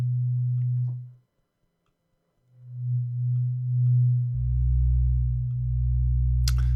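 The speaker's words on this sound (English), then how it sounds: "Sine waves can be a little quiet." A pure synthesizer sine wave patch in Omnisphere sounds as sustained low tones, cutting out briefly, returning, then dropping an octave into a deeper steady hum.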